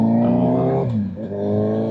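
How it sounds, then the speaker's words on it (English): A 2008 Suzuki Hayabusa motorcycle engine drones steadily while riding, its rich harmonic tone dipping briefly as the revs change, then settling back into a constant close hum. "So we're riding my 2008 Hayabusa."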